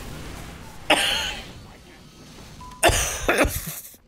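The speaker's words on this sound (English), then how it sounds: "this cough just came out of nowhere." Two harsh, loud coughing bursts from a man close to the microphone, the second a rapid double cough, separated by quiet room tone.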